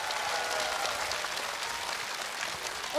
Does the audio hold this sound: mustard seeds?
no